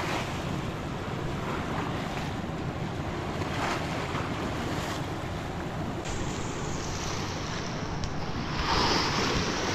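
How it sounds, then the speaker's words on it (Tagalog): Rough sea waves surge and crash steadily, with heavy low rumble and gusty wind across the microphone, building louder near the end. "nagkakagulo yung alon, oh."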